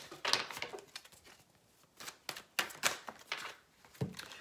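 A deck of tarot cards is given a big shuffle, with bursts of crisp rustling, flicking and riffling in irregular clusters close by, separated by short quieter gaps.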